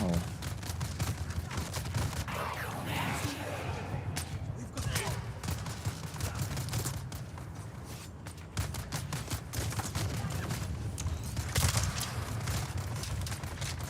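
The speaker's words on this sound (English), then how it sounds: "the shotgun has a delay to it. Like you press the trigger button to fire, and it has to spin up the rounds to fire" Gunfire crackles without letup in the Dune video game, including a shotgun, as a fast, dense volley of sharp reports. The shots stay at a moderate level throughout, with a voice talking over them.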